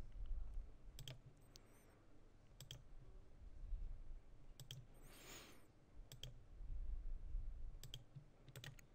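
Sharp computer mouse clicks in AutoCAD while drawing lines, arriving singly and in quick pairs at irregular intervals over a low, steady room hum, close and fairly quiet with no talking.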